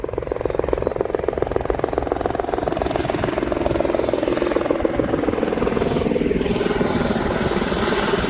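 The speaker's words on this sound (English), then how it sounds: "Look at the helicopter." A helicopter flies at the Huntington Beach airshow, its rotor throbbing continuously and fairly loud throughout.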